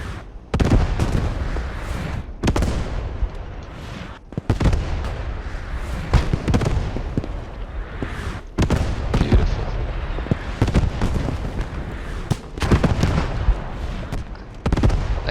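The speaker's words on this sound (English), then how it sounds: "This is a heavy bombardment. This is what, a 10, 12 round bombardment." Heavy artillery bombardment in a wartime strategy video game, a rapid barrage of loud booming shell impacts and explosions landing in quick succession, dense and continuous with brief pauses between volleys.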